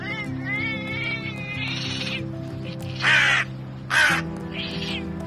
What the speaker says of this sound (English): this quarrel between a crow and a cat is simply unbelievable